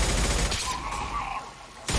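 Rapid gunfire from a sci-fi firefight in the Mass Effect 2 video game crackles in a dense, loud burst, then eases briefly before another volley starts at the end.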